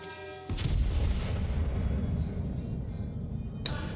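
Battleship main guns firing high-explosive shells in World of Warships, an Italian battleship Lepanto match: one loud booming salvo followed by a long rumbling roll, then a sharper crack near the end, with no speech.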